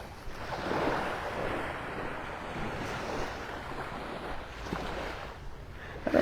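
Gulf waves wash onto the beach near Naples Pier in Old Naples, Florida, a steady soft roar of surf mixed with wind buffeting the microphone, fairly close, with no one speaking.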